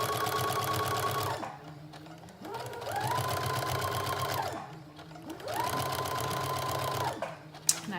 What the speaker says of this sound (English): now we're going to stitch a 5/8 inch seam at the neck edge